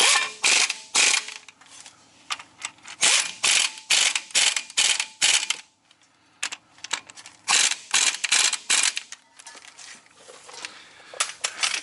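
A hand ratchet tightens bolts on Ford F350 brakes, giving rapid bursts of sharp clicking strokes in quick repeated runs, close and clear with a short pause midway.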